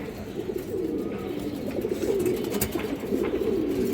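A pair of red Sabji pigeons, one male and one female, coo softly and continuously from close by, their low murmuring calls rising and falling without pause and with no voices over them.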